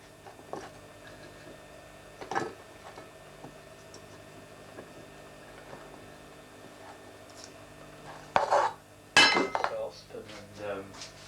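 Chopped rhubarb goes into a saucepan in a home kitchen: a few sharp metallic clinks and clatters of pans and utensils, scattered and close, with a louder cluster near the end over a low background hum.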